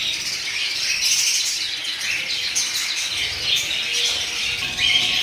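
Caged birds at a bird sale, including red Moluccan lories and Java sparrows, chirp and tweet constantly in a dense, high, overlapping chatter, loud and nearby with occasional wing flutters and no talking.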